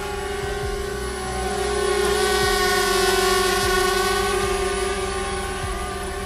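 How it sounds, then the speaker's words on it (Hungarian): A small gesture-controlled drone hovers close by with a steady, loud propeller whine and stacked motor harmonics that swell slightly in the middle, with faint low thumps underneath. "ami azt jelenti, hogy kézmozdulatokkal tudjátok irányítani a drónt"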